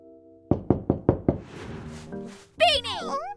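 Five sharp, evenly spaced knocks rap on a door in an animated cartoon, loud and close, followed by a brief rumble and then a high, animated character voice speaking.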